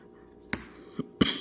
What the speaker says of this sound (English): I told you guys I had a cough.